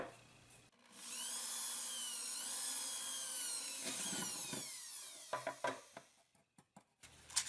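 A power drill whines steadily for several seconds with a rising pitch, drilling a hole in a thin polymer clay piece, then stops, followed by a few short scraping and tapping sounds nearby.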